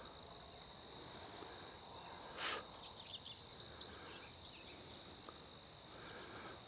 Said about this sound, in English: Bugs.